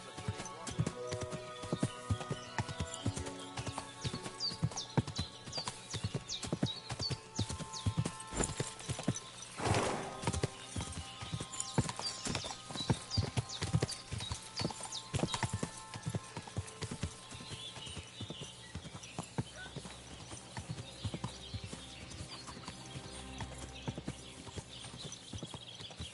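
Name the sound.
horse hooves clip-clop, from a video game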